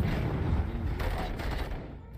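Gunfire in the RoboCop: Rogue City video game, a dense, continuous burst of rattling shots with booming low end, fairly loud and close, thinning out toward the end.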